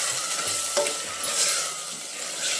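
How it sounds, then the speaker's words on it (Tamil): Ground masala paste sautéing in oil for kurma gives a steady soft sizzle with scraping stirs of a spoon in the pan, close and continuous without talk. "இந்த மசாலாவையும் வந்து ஒரு 2 நிமிஷத்துக்கு வதக்கி விட்டுக்கலாம்."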